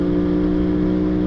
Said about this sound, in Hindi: अभी मैं जानबूझ के बाइक थोड़ा सा तेज़ चला रहा हूँ